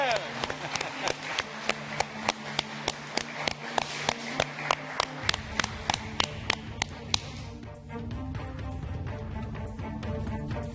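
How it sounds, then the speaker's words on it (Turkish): Rhythmic group clapping in the MasterChef Turkey studio kitchen at the start of a timed final cook, sharp claps in a steady beat that give way to a blur of activity, with voices present. "Hadi bir alkış yapalım"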